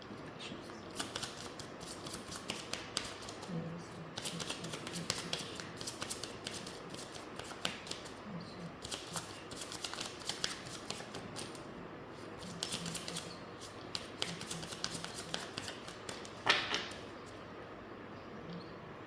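Tarot cards being shuffled by hand, a steady run of soft riffling and flicking that carries on throughout at close range, with one sharper snap near the end and no talking.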